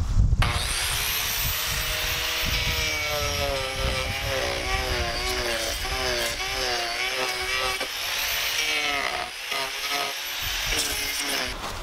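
A handheld power carver grinds into a wooden bowl held in a clamping jig, a steady high whine with a wavering pitch that rises and falls as the cutter bites, continuous and close.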